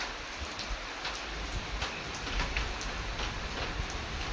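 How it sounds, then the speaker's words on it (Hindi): Steady rain falling on an empty street, a dense, even hiss that holds constant throughout, with no voices. "ये बारिश वाला मौसम है"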